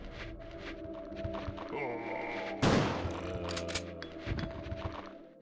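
Gunfire from a handgun in Resident Evil 2, with one loud sharp blast in the middle standing out over game ambience, music-like tones and thumps, while a person talks throughout.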